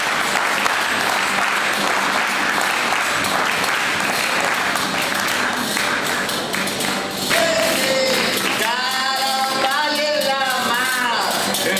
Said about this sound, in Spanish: Fuerte el aplauso para esta gran colección y también para nuestros jugadores que nos van a representar.